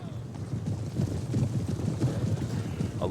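Horse hooves of marching cavalry in a medieval siege-of-Rome strategy game, a steady, dense clip-clop of many horses pounding together at mid distance, continuous and fairly loud with wind-like game ambience and no speech.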